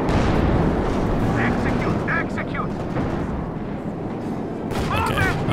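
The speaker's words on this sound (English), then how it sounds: "Close range grenades." Grenade blasts and rolling battle noise from a Company of Heroes 2 match, dense and loud throughout with repeated heavy booms and crackling gunfire, a voice shouting in the mix.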